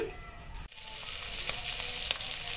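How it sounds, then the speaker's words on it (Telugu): A tempering of urad dal, mustard seeds, cumin, dried red chillies, asafoetida, green chillies and curry leaves fries in hot oil for chickpeas, giving a quiet, steady sizzle and crackle with one sharp clack early on. "మినపప్పు, ఆవాలు, జీలకర్ర, ఎండుమిరపకాయలు, ఇంగువ, పచ్చిమిర్చి, కరివేపాకు ఇవన్నీ బాగా వేయించుకోవాలి"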